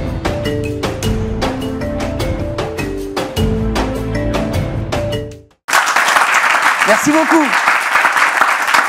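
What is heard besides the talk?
studio audience applause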